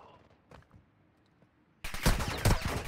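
Gunfire in the mobile shooter Warzone Mobile: faint distant pops early on, then a loud burst of close shots and impacts in the final second.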